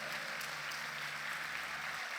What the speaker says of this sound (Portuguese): Então dá um glória a Deus para Jesus e uma salva de palmas